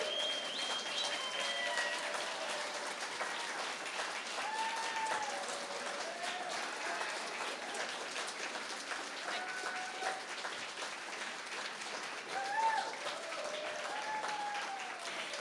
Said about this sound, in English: a continual round of applause would be appreciated